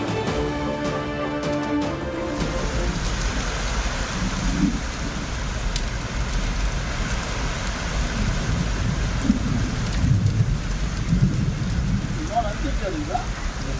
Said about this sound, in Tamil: சென்னையின் புறநகர் பகுதிகளான கிளாம்பாக்கம், ஊரப்பாக்கம் பகுதிகளில் கனமழை.